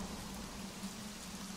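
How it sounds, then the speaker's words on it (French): Heavy cartoon rain pours down in a steady, even hiss from a downpour in an animated pony episode. It is soft and constant, with no voices. "il pleut beaucoup trop!"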